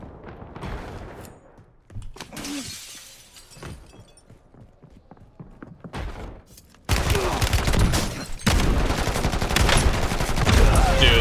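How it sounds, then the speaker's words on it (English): Shotgun blasts in Warzone, heavy booming reports scattered through the clip amid game noise and other gunfire, growing louder and denser toward the end. "this is the worst shotgun ever"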